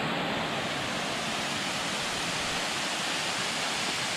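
Water pours down at Ricketts Glen Falls on a hiking trail, a steady, even rushing roar without breaks, moderately loud and heard alone.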